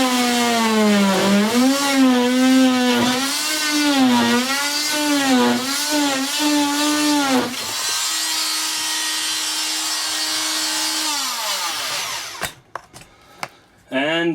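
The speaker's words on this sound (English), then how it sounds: "we'll take our handy dandy Dremel and trim out the second piece" A Dremel rotary tool trims a piece of a Beachcomber B15 trailer, whining loudly with a wavering pitch that rises and dips as it bites into the material, then holds a steadier tone before spinning down, followed by a few clicks.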